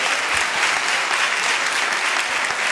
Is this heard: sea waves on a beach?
no